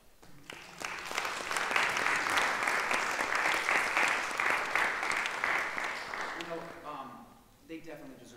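An audience at a graduate lecture recital applauds steadily for several seconds, a dense wash of clapping that swells, holds, then fades, with a voice speaking as it dies away.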